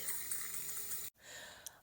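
Hot water runs steadily as a bottle is filled, a soft continuous hiss and gurgle that breaks off briefly, then resumes more quietly with a small clink near the end.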